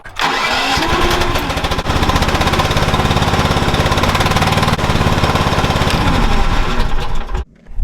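A Chinese mini excavator's engine starts and then runs loud and steady, a dense rattling diesel clatter lasting several seconds before cutting out near the end.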